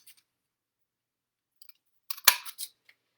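A paper punch cutting a card for a flagged edge sounds as a few sharp, close clicks and a crisp snap in a short cluster after near silence.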